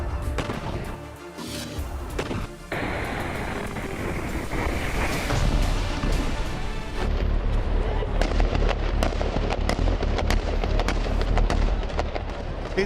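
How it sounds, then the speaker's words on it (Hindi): Soldiers fire at a stone building, sharp bursts of gunfire cracking repeatedly outdoors amid wind noise, with shots growing denser and louder in the second half. "उसे घेरने के लिए 1 दर्जन से ज्यादा आईडीएफ सोल्जर्स ने फायरिंग की।"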